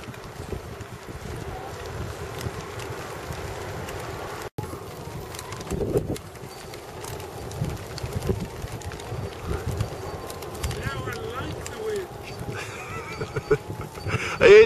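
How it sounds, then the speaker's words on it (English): Wind gusts across an open outdoor spot, buffeting the microphone with a continuous low rumble that swells and eases for about fifteen seconds, with faint bird sounds mixed in. "Are you enjoying the wind now, David?"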